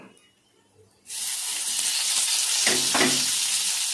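Tomato dropped into hot oil with fried cumin in a pan for a vegetarian soybean korma, bursting into a loud, steady sizzle after a second of quiet, with a couple of stirring scrapes near the end.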